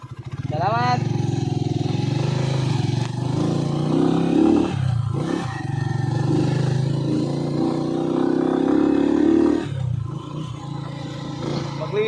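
A motorcycle rides along a rough road on a trip to Suncoy spring, its engine droning close and loud with rising and falling revs, while riders talk over the noise.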